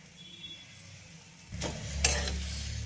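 Food being reheated in a pan, Sunday home cooking of leftovers like chicken rezala and prawns; a quiet start gives way to a nearby sizzle with scraping and clinking of a utensil against the pan.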